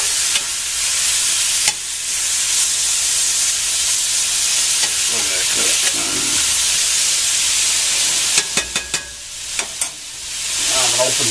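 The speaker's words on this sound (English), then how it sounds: "You want to char that sausage." Sausage charring in a hot pan gives off a loud, continuous sizzle and hiss for the whole stretch, with a few sharp pops and clatters near the end and no voices.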